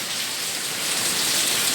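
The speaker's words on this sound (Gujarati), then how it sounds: "બહાર જો એકદમ ફૂલ વરસાદ" Heavy rain pours outside onto a metal sheet roof, a dense, steady, loud hiss and patter with no break, heard alone.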